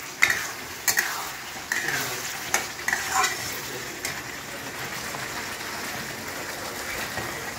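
Rice being stir-fried in a pressure cooker, with a steady sizzle under sharp scraping clinks of a spoon against the metal every second or so, close and fairly quiet, with no voices.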